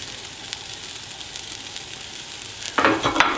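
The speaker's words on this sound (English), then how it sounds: "So at this point I'm going to add the garlic." Garlic dropped into browning onions in a stainless steel pot for a light tomato sauce, giving a steady soft sizzle that bursts louder and brighter near the end as it hits the hot pan.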